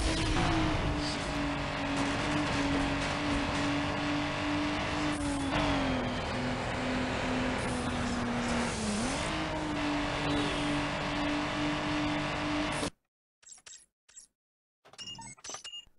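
Nissan Skyline GT-R engine in Need for Speed Underground, droning loud and steady with pitch rising and dipping through gear shifts for about thirteen seconds, then cutting out to near silence broken by a few faint short bursts.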